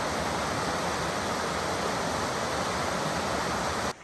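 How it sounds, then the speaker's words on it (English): North Fork Silver Creek on the Trail of Ten Falls at Silver Falls State Park, Oregon, rushing steadily as a dense, broadband wash of flowing water, close and constant, cutting off abruptly at the end. "This is North Fork Silver Creek."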